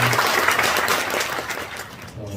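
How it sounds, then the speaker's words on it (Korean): Congregation applause at a church graduation service for a senior mission school, broadband clapping that holds fairly steady, then thins toward the end. "우리 박수 한번 할까요?"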